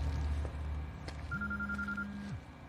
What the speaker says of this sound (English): It's a phone.